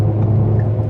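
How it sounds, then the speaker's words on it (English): A big truck rolls past, a loud, steady low rumble of engine and tires that holds close and even for the full second without any talk. "Hang on, I gotta pay attention because that's the big truck."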